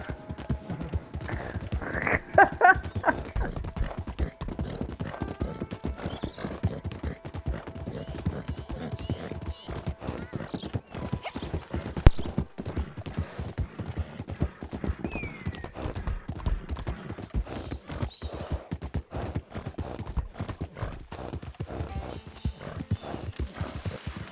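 Horse hooves clip-clop steadily in Red Dead Redemption 2 as a horse is ridden, a continuous rhythmic stream of hoofbeats with an occasional faint whinny, loud and close throughout.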